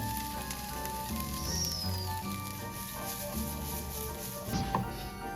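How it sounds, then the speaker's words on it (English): Onions caramelize in olive oil in a pan, giving a steady, moderately loud sizzle and crackle that runs throughout, with faint background tones and a brief clatter near the end. "Now we're gonna start caramelizing the onions, so I'm gonna put all the onions in here"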